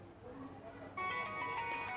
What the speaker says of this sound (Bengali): আমার হচ্ছে কল আসছে দেখি আমি কলটা রিসিভ করে আমার কোডটা কি বলে